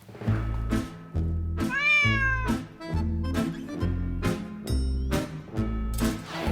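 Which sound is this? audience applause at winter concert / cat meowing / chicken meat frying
cat meowing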